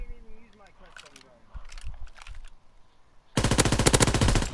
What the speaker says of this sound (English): See, that's a machine gun.